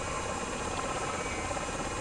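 Miltech Osprey tiltrotor engines in Microsoft Flight Simulator, nozzles fully up in a helicopter-like hover, giving a steady, dense, even engine and rotor drone with no talk.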